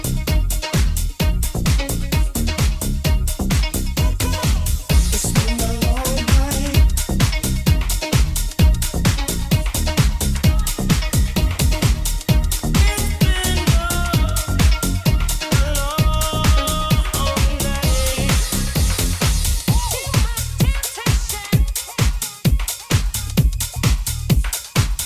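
A DJ mix where two dance tracks switch over together on hot cues, producing a dense, loud, continuous beat with driving kicks and layered synth lines that change cleanly partway through.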